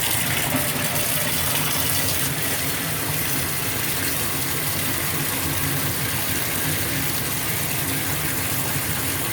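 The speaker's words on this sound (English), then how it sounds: "let's go ahead and flick our water on and make bubbles." Bath water gushes from a tap into a tub to make bubbles, a loud steady broadband rush with no pauses throughout.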